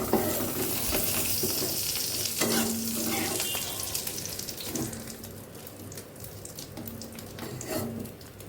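Paneer and whole spices such as a cinnamon stick and cracked cardamom sizzle steadily in hot oil in a pan, a continuous close frying hiss with occasional stirring scrapes and no talking.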